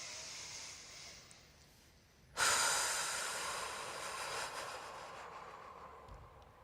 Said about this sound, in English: Show us the middle belly breath.